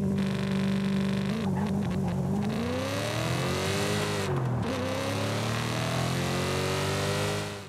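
A Morgan Aero GT's 4.8-litre engine revs up and down repeatedly in Forza Horizon 5, its pitch rising and falling in smooth sweeps, loud and continuous with no talking.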